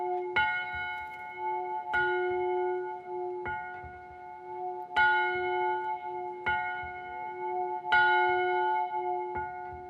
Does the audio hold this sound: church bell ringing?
yes